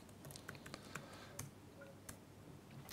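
Computer keyboard typing while a Python function is rewritten: scattered, fairly faint key clicks in an irregular rhythm, with a few sharper taps standing out against a quiet room background.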